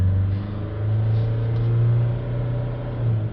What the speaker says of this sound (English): Let's give it a rev up.